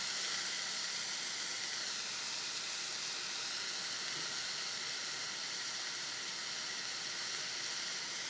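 Corned beef searing in a dry pan with no oil gives a steady, faint, even hiss that continues unbroken without any talk.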